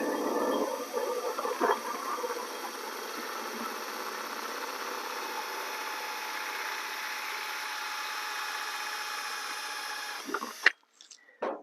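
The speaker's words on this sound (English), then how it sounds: "drill in line with the handle" A steady, droning power drill bores a hole in a plastic 5-gallon bucket, running continuously for about ten seconds at close range, then cuts off abruptly with a few clattering handling noises.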